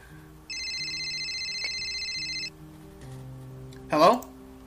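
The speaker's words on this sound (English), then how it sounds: "my phone is ringing" A mobile phone rings with a bright electronic tone lasting about two seconds, near and clear, followed by a quieter tone and a brief burst of voice.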